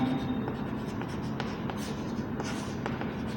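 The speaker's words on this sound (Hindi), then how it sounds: "अब हम दूसरा वाक्य लिखते हैं" Chalk or marker scratching out a sentence on a classroom board, a steady run of short strokes and taps at close range, fairly quiet, with no talking over it.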